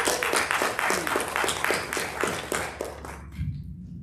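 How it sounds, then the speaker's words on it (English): Congregation at a Sunday spiritual center service in a theater claps in a steady, rhythmic round that ends abruptly near the close, leaving a quiet hum. "Let's give them another round of applause"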